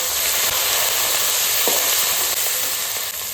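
Whole garam masala, bay leaves, dried red chillies, chopped onions and green chillies frying in oil for a mutton curry, a loud, steady, close sizzle with a faint stir partway through.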